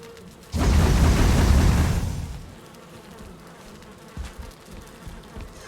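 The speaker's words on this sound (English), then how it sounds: "And doze off to the cozy droning of bees." Bees drone in the Valheim video game, a dense buzzing swell that lasts about a second and a half and then drops back to a faint hum with a few soft knocks.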